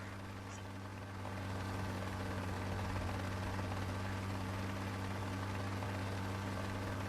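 A military helicopter spins up for takeoff from its pad in Rising Storm 2: Vietnam, a steady droning rotor and engine hum that swells louder after the first second and holds constant.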